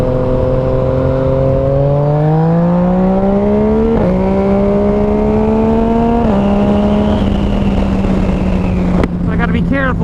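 A 2019 Yamaha MT-09 motorcycle fitted with a new Arrow exhaust revs and pulls steadily under way, its engine note climbing through gear changes at about four and six seconds, then settling into a loud, even drone close by.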